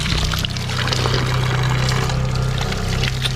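Cold spring water pours steadily from rock walls at a hidden waterfall in Tagaytay, a continuous near splashing trickle with a low steady hum beneath, and no voices.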